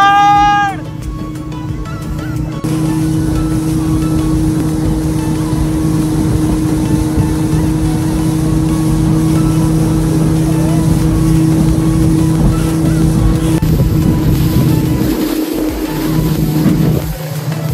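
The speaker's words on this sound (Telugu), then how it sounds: "స్పీడ్ బోట్ అయితే చేసేసామండి." Motorboat engine on a lake in Ooty, a loud steady drone with strong low tones and a hissing wake, holding constant for most of the ride before briefly dipping near the end.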